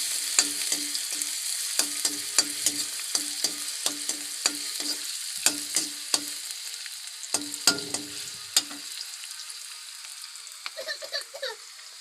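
Ginger and garlic fry in mustard oil in a pan, a steady close sizzle broken by rhythmic scraping clicks of stirring that stop near the end.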